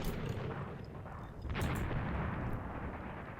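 An artillery barrage in the Tunisia 1943 tank warfare video game, a rolling rumble of distant booms and firing blending into a dense, continuous low roar with a sharper crack midway.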